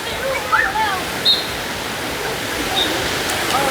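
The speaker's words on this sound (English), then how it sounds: "water splashing everywhere, the giant bucket really fills up a lot before it goes" Water splashing all around a large water park with a giant tipping bucket, a loud, steady rushing wash like a waterfall, with brief high-pitched shouts and squeals over it.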